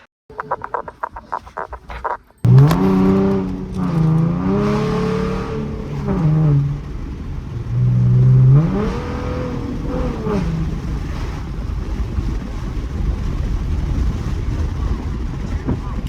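A V6 Ford Mustang engine revs up through the gears while driving, its tone climbing in rising sweeps, easing, then climbing again, loud and close inside the car over steady road rumble.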